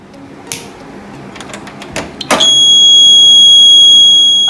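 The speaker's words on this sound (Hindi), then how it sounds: "आप देख ही सकते हैं हमारा डोर अलार्म रेडी हो गया है।" A homemade door alarm goes off, a few clicks and handling knocks first, then a loud, piercing continuous electronic beep tone that sustains steadily to the end.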